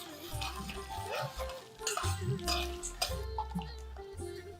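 Dried red chillies sizzle in hot oil for a pulihora tempering, with a spoon clattering and scraping against the metal pan in short irregular bursts, close up.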